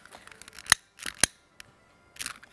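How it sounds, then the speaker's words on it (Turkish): Scissors cutting material for a handmade bag, with a few sharp, close snips spaced irregularly over a couple of seconds in an otherwise quiet setting. "Mesela biraz kesiyorum şunu."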